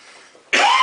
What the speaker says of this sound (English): As I cough into my fist.